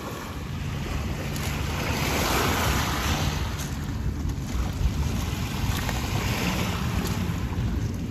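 Sea waves washing in at Manila Bay's Dolomite Beach with strong wind buffeting the microphone, a constant roaring wash without talk.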